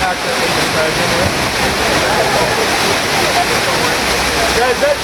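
A waterfall on the Na Pali coast pours in a dense, continuous roar, loud and close, with no pauses for the whole stretch.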